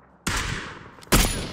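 Gunfire in the battle royale game PUBG: two loud, close bursts of shots, the first ringing out and decaying slowly, the second sharper and heavier, with no talking.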